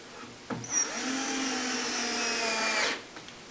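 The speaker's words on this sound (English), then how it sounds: "and drill my pilot" A power drill whirs steadily for about two seconds as it bores a pilot hole into wood for a fireplace mantel, with a brief start-up and a clunk before and after.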